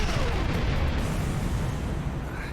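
Warp core detonation in Star Trek Prodigy, a loud rumbling blast that fills the whole stretch with a dense, roaring low-heavy wash, slowly easing off toward the end.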